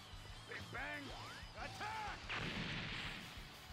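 A character shouts in a Dragon Ball Xenoverse ranked battle, then the Big Bang Attack energy blast lands. A loud crashing explosion with crackling debris follows over constant battle rumble.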